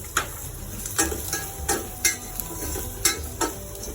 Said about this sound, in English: Add the onions. Add the turmeric powder.